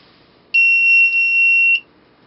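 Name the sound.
buzzer beeping in laser security circuit when beam broken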